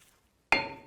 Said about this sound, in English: Now I'll take a hammer and just hit right on these parts of the rotor.